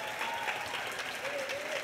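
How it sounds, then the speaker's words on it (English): An audience at a school show-day event bursts into applause, dense clapping from a crowd that fills the short moment evenly. "Can we have a big round of applause?"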